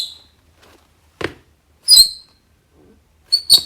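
A basketball shoe squeaking on a hard floor as it stops: sharp, high-pitched squeals in short separate bursts, loud and close, with quiet gaps and a dull thud between them.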